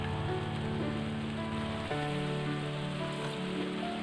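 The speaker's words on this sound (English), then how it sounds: "Let it fry for another 2 to 3 minutes." Spices sizzle and crackle in hot oil in a pan while cooking a chicken rice bowl, a steady soft frying hiss heard close up with no talk.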